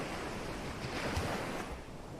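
Sea waves wash onto the Red Sea shore in a steady, rushing surf with a breath of wind, heard alone without voices.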